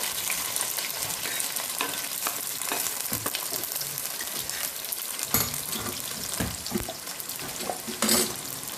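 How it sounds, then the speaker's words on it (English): Onions and curry leaves hit hot oil for a coastal Andhra fish curry, giving a dense, loud, continuous sizzle up close with a few sharp crackles and pops and no voices. "oil is heated, I am going to put onions like this from the board. Onions and curry leaves."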